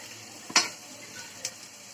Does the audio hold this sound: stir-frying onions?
yes